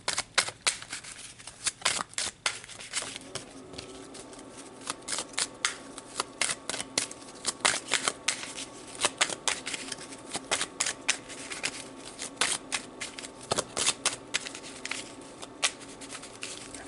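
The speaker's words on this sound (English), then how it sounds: "I feel like I need to do a really good shuffle on this one." Tarot cards being shuffled by hand in a long, thorough run of crisp riffles and slaps that rises to a steady, busy flutter, close and fairly loud with no talking.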